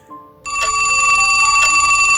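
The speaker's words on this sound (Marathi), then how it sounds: "घरातील टेलिफोनची रिंग वाजली" A landline telephone rings in a home, its bright electronic bell tone starting abruptly and holding steady and loud with two stronger pulses, alone without any talking.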